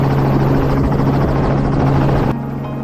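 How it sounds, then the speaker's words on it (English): A helicopter flies overhead surveying farmland, its steady rotor drone loud and continuous, with the tone changing slightly near the end as it moves off. "Helicopters appeared above the most heavily affected areas to conduct aerial surveys."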